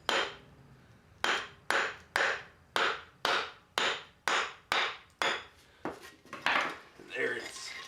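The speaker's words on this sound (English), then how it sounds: "tap on the inside of the hub here, and it should release from this drum" Hammer blows striking the inside of a Chevy 3/4 ton rear wheel hub to free it from the brake drum: about ten sharp metallic taps at a steady, roughly half-second pace, close and loud, ending in a scrape as the drum loosens.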